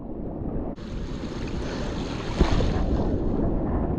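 Large ocean waves about 2.5 metres high break near a fishing boat off a rocky coast. The result is a loud, continuous surging roar mixed with wind buffeting the microphone, and one sharp thud comes midway.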